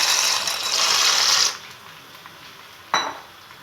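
A rushing, rattling pour of dry macaroni into a metal pot of boiling water for about a second and a half, followed by quiet and one sharp clink.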